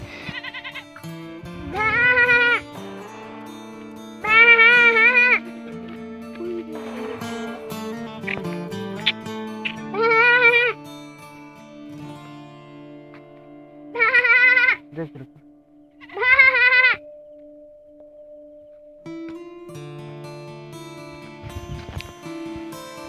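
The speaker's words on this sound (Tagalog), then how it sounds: "Yan po mga kabarkada yung kambing." Tethered goats on a rural farm in Agutaya, Philippines, bleating in several loud, separate calls spaced across the recording, some nearby and drawn out, with someone talking and quiet outdoor background between the calls.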